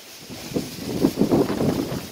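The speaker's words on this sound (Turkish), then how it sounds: "Çok rüzgar var. Beni duymakta zorlanabilirsiniz." Strong wind buffets the microphone outdoors near an ancient burial mound, producing rough low rumbling gusts that swell and fade over a couple of seconds.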